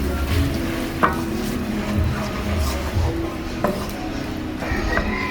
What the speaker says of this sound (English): Let me stir in the sauce.